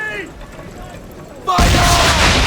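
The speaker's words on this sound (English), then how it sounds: "Now give the swivel guns a turn." Ship-mounted swivel guns firing in Assassin's Creed III, a sudden loud blast that breaks into a sustained roaring burst after a quieter stretch where a voice speaks over sea ambience.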